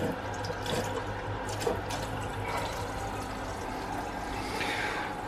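Water runs steadily through a newly installed household water filter, flushing loose carbon out of it; a continuous, quiet rushing trickle like a tap running, heard alone without voices.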